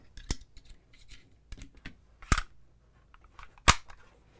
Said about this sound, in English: It's a 23 gauge nail gun and we're shooting, looks like 1 3/4 nails.